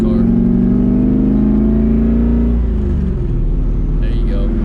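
A turbocharged LS1 Camaro accelerating hard on a backroad, its engine drone loud and close, rising in pitch and then shifting as it changes gear, with a voice briefly heard near the end.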